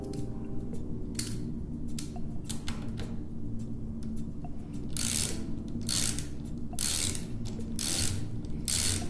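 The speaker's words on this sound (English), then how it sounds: "While pressing down on the spring cover, remove the slotted nut." A slotted nut is worked off a hand wheel mechanism beneath a spring cover, producing sharp, close metallic ratcheting clicks in irregular runs, some quick and some spaced, with no voices.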